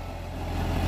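An Eicher 551 tractor engine idles close by, a steady low diesel rumble that holds even and unbroken for under a second, with no voices over it.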